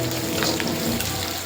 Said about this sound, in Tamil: நாங்கள் எண்ணெயில் வறுக்கணும்